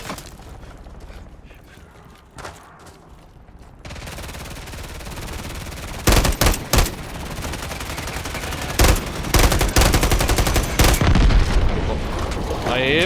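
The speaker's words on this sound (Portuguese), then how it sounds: "Estão atirando em mim." Gunfire in the video game Warzone, quiet at first, then loud bursts of shots and rapid automatic volleys in the second half, close and sharp over steady background noise.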